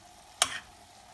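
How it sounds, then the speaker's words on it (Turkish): Spinach being stirred in a frying pan, giving a single brief scrape and sizzle that rises sharply and dies away within a fraction of a second over a faint, steady background hiss. "Hafif hafif karıştırmaya başlıyorum."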